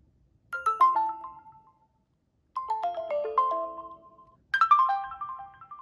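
Three separate Windows Phone 8.1 built-in notification and ringtone chimes, each a bright melodic cascade of bell-like tones decaying over a second or two, with silent gaps between them and no talking.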